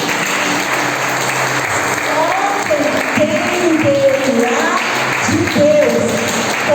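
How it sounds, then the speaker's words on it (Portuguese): Congregation in a church service applauding during worship, a loud, sustained wash of clapping with voices calling out and singing-like tones over it throughout. "Você pode aplaudir o Senhor?"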